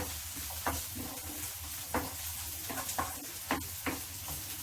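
Vegetables for a vegetarian pasta sizzle in a pan as they are stirred, a constant soft frying hiss broken by several sharp scraping and clinking strokes of the utensil against the pan, with no talking.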